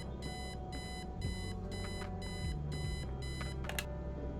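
An alarm clock rings in Kathy Rain, a steady repeating electronic beep pattern in regular pulses over a low background hum.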